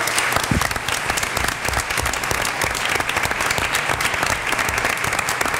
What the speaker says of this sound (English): So let's have a round of applause for her.